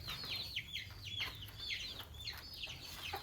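A rooster and hens in a chicken coop give repeated short, high clucks and calls in an uneven rhythm, moderately near, over a low background hum.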